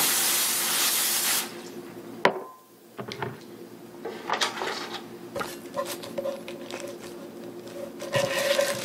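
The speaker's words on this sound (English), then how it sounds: "That is after I spray my pan." A short hiss of cooking spray onto a pan opens the clip, followed by clinks, taps and light kitchen handling noises.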